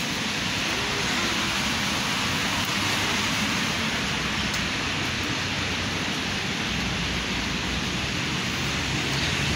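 Rain falls on a rainy day on the way to school, making a dense, continuous hiss that stays loud and even throughout with no pauses.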